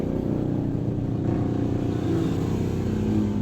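Several motorcycles pass by on a village road during a barrio fiesta, their engines a steady continuous drone with a faint rising rev, fairly close and loud throughout.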